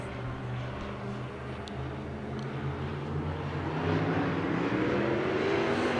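Race cars at Bakersfield Speedway roar off together at the start of a heat race, a dense, rising engine drone heard from a distance with crowd-like ambience.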